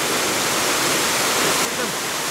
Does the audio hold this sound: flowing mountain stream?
yes